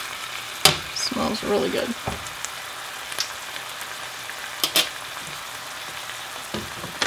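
Beef and cabbage sizzling in a hot pan as they get stirred, a soft steady fry with a few sharp clanks of the utensil, and a brief spoken comment early on.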